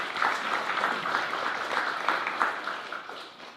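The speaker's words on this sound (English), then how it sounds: "applause." Applause from the audience at a school board meeting for a long-serving middle school teacher who is retiring, a sustained, even patter of many hands that fades slightly toward the end.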